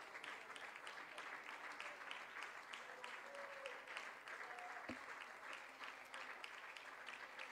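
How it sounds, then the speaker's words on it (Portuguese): A church congregation applauds during a Spanish-language worship service in Chile, giving dense, rhythmic clapping that stays even and fairly faint throughout, with a brief sharp knock near the end. "Recibe este aplauso, Señor."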